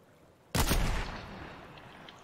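A single loud, close sniper shot from the Fortnite video game cracks suddenly, then its boom and echo trail off over a second or so against faint game ambience.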